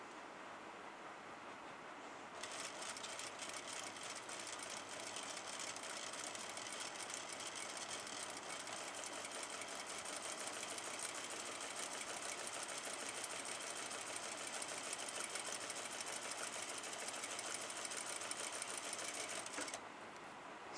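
A sewing machine stitching folded edges of fabric along a pattern runs steadily for about seventeen seconds, a fast even mechanical whir and clatter, close and alone, starting and stopping cleanly.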